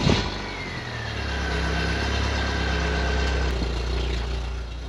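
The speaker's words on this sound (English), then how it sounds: "exhaust view, cold start, 1998 BMW Z3." A 1998 BMW Z3 1.9-liter four-cylinder engine cold-starting, heard from the exhaust, catching with a brief burst, then settling into a steady, slightly raised idle with a low exhaust drone.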